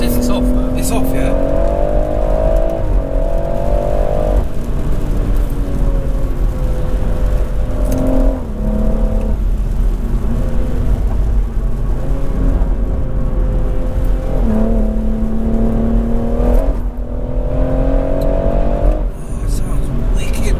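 JB4-tuned BMW M140i heard from inside the cabin during a hard drive, its engine droning and surging through repeated accelerations and gear changes as people talk over it.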